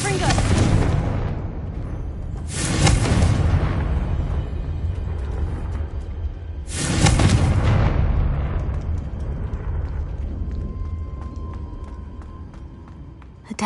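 Two heavy, booming blasts from the Confringo blasting spell in Hogwarts Legacy, set at a witch's sarcophagus in a tomb; each explosion hits hard and decays slowly under a low ambient rumble.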